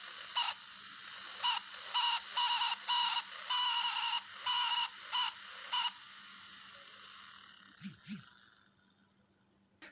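A small DC motor with speed set by a MOSFET circuit whirs in short buzzing bursts of varying length, then gives a couple of soft clunks and winds down to near silence.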